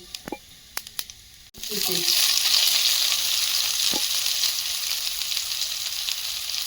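Nigella seeds go into hot oil in a kadai for a fish curry: a few light taps, then a sudden loud, sustained sizzle that stays close and steady.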